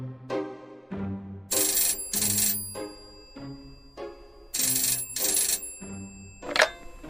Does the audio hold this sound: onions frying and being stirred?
no